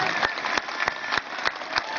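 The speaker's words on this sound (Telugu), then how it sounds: "మనల్ని ప్రతి ఒక్కరు కూడా గట్టిగా చప్పట్లు కొడితే అదే మీ నుంచి నాకు ఇచ్చే గిఫ్ట్" A crowd at a Republic Day gathering claps in a dense, steady round of applause from many hands, continuous through the short stretch.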